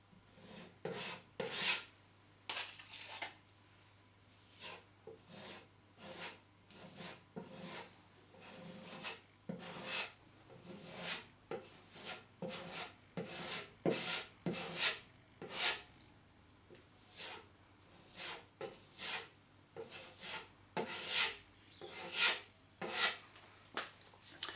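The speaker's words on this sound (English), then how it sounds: "All I'm going to do is take the filler and work it into the hole." Filler is worked into a hole in plasterboard with repeated short scraping strokes, close and quiet, in an uneven rhythm of about two strokes a second with no talking.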